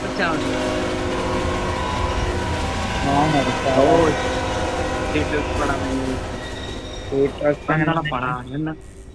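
A train rumbles steadily through a Roblox game, its rolling rail noise and harsh tonal squeals running loud the whole way, with excited voices talking over it and several short bursts toward the end.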